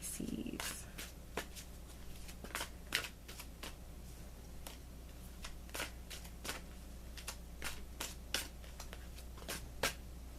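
A tarot deck being shuffled by hand produces quiet, irregular clicks and soft card slaps spread across the whole stretch over a faint steady hum.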